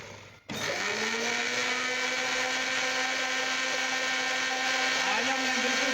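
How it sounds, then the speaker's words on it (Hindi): A blender switches on abruptly and runs steadily at high speed, blending water and oil for mayonnaise, a loud continuous whirring hum that holds for several seconds. "अब हम इसमें थोड़ा सा पानी शामिल करेंगे और ब्लेंडर को चला देंगे"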